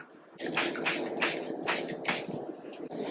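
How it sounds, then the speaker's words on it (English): Milani Make It Last setting spray misted from a pump bottle in several quick, hissy bursts, close and fairly loud, with short pauses between sprays. "I'm going to go in with my Milani Make It Last setting spray"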